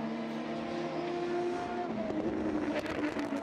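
A Dallara LMP2 prototype racer lapping Sebring during qualifying for the 1000 Miles, its engine howling in a strong, shifting whine that rises and changes pitch as it passes.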